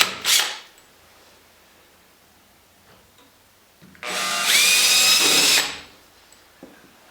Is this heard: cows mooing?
no